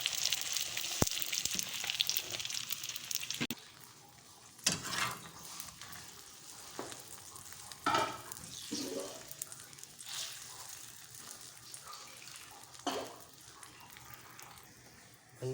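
Beaten egg for a plain omelette, seasoned with salt and black pepper, fries on a hot tawa griddle. A steady, soft sizzle runs throughout, broken by several sharp crackles and pops.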